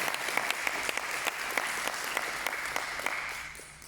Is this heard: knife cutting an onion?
no